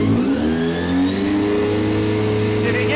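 A Honda RVF400 motorcycle engine runs after a carburettor rebuild, a steady close mid-pitched drone with slight revving swells, loud and continuous throughout.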